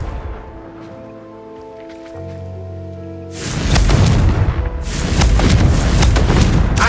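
A Confringo fire spell goes off in the video game Hogwarts Legacy: after quiet humming tones, a sudden loud booming blast with a crackling, rumbling tail that surges again before it fades.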